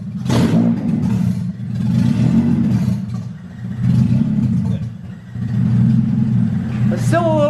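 A Honda Civic EG engine in a garage is started and revved, rough idle rising and falling in repeated surges, close and loud, with people talking over it.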